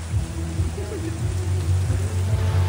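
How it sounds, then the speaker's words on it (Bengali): Heavy monsoon rain pours outside in the coastal town of Digha, a steady broadband wash with low rumbling underneath, continuous and fairly loud throughout. "ভাই বিভৎস বৃষ্টি হচ্ছে,"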